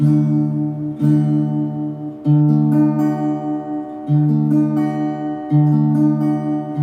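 Acoustic guitar strummed in a steady rhythm, chords ringing full and resonant with regular strums about every second and a half, close and fairly loud, no voices.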